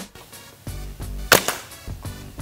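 A CO2-powered Nerf dart blaster loaded with darts fires in a series of sharp, short pops, one notably louder burst near the middle among softer clicks and thumps, close to the microphone with no talking.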